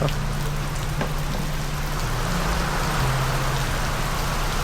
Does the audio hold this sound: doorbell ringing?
no